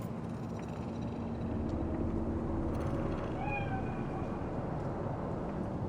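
A cat meows in Cyberpunk 2077, a couple of short rising cries over a steady bed of low city rumble and ambient hum.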